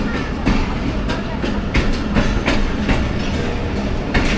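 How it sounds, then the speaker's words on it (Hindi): A Rehman Baba Express train pulls out of Sangla Hill Junction, its steady rumble and rhythmic clickety-clack of wheels over rail joints running close and loud throughout. "दोनों ट्रेनों का साथ साथ डिपार्चर हुआ है जी सांगला हिल जंक्शन से"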